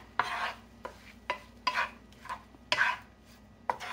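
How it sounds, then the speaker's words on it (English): A utensil repeatedly scrapes and stirs through shrimp in a pan as flour and parsley are blended in, giving close, rhythmic strokes with no talk. "Take your flour and your parsley and just sprinkle that evenly over here. You're just going to blend that in."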